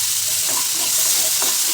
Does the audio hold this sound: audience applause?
no